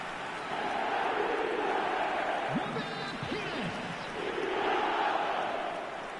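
Simulated stadium crowd in the eFootball game on PS4, a broad roaring swell of many voices rising and falling in waves, with brief shouts cutting through the middle of the loud, continuous noise.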